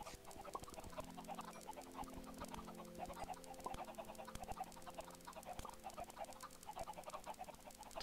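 Chickens cluck steadily in Minecraft, a quiet, busy background layer, with a constant mechanical hum and faint ticking clicks; no one speaks.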